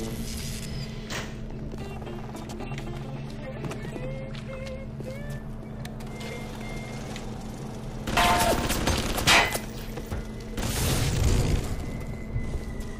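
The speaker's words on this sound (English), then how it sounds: "It's lucky those turrets take so long to wind up." Gun turrets in the BioShock video game clank and whir in the background, then fire in two loud bursts of rattling gunfire over a continuous low mechanical hum.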